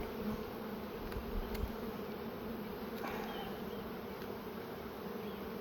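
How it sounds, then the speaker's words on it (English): Honeybees in an opened hive during a spring colony split, a dense continuous buzz close by with a few faint knocks, no talking over it. "A little smoke, get the bees back down."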